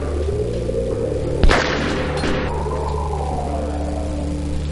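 A single loud sniper rifle shot rings out in Half-Life 2, a sharp crack with a brief echoing tail over steady low game ambience and music.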